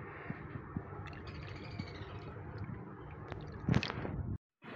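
Water is poured into a glass of falsa sharbat over ice cubes, a soft, quiet splashing and gurgling that swells near the end before cutting to silence.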